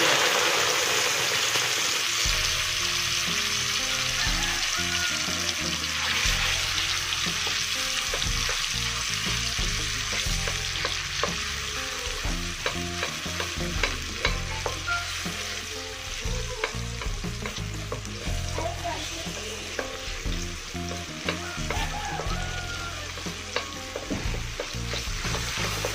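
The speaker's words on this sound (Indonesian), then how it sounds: "langsung saja kita menumis bumbu yang sudah diblender" Blended spice paste sautéing in hot oil for a chayote coconut-milk dish, a steady loud sizzle and crackle with stirring scrapes throughout, no voices.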